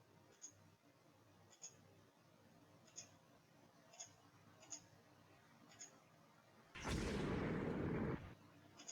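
A torpedo strikes a heavy cruiser in the naval strategy game Rule the Waves 2, a sudden loud roaring blast lasting over a second that follows several faint, evenly spaced ticks.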